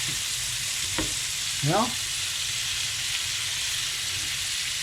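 Fillet steak and mushrooms sizzle in a pan with a constant close crackle and hiss, and someone speaks briefly partway through.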